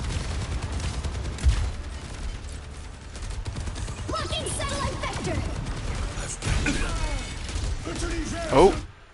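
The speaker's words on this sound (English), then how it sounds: "their soldiers using ult" Sustained rapid gunfire from the Soldier's ultimate in the video game Overwatch, crackling steadily under game effects and someone commenting, with a louder burst near the end.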